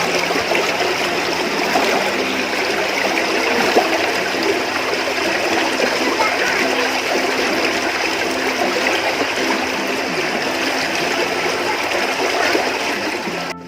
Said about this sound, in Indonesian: Dengarkan suara arus airnya, teman-teman.